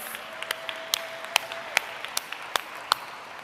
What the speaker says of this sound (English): if we can have one more applause for our Indigenous Knowledge and Wisdom Prize recipients